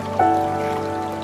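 Rain falling outside a hotel, a brief steady wash of patter and trickling water with a faint tonal hum underneath and no voices.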